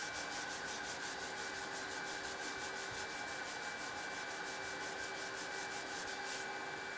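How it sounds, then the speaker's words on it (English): Hand block fitted with P80 sandpaper shaping car body filler, a steady rapid series of rhythmic rubbing strokes, close and fairly quiet, with no talk. "a suitably sized hand block is selected from the 3M dust-free range and fitted with P80 sheets for initial filler shaping"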